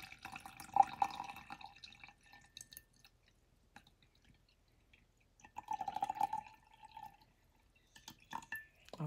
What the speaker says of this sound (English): And then you're going to add your water.